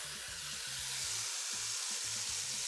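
Fresh chopped spinach sizzles in a hot frying pan, a continuous soft hiss with low bubbling, brief knocks and short tonal bursts from handling, quiet and close, no speech.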